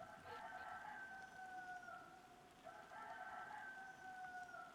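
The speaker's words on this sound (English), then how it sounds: "I'm sure everyone can hear the chicken in the background because it likes to go off here" A rooster crows twice in the distance, each long drawn-out call rising and falling over a steady background hiss.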